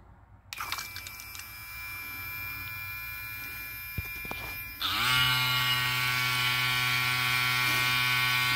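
Braun SmartCare electric shaver motor running while seated in its charging and cleaning station, a steady close buzzing hum that switches on, then shifts to a louder, fuller whine partway through and keeps droning.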